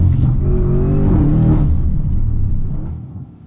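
An Audi RS7-R ABT fitted with an IPE exhaust accelerates hard nearby, a deep rising roar that swells and then fades as the car pulls away.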